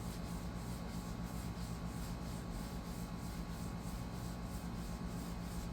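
Yellowed, foggy plastic car headlight being rubbed by hand, a steady, close, quiet scrubbing friction with a regular pulsing rhythm and no pauses.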